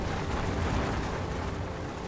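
A Big Bang explosion sound effect for a cosmos documentary: a dense, loud, sustained roaring rumble with no distinct onset, heard alone.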